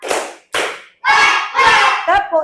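Classroom pupils in a counted clap game clap twice in sharp, loud unison, then chant three rhythmic group shouts right after.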